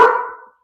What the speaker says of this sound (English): excuse my dog, sorry.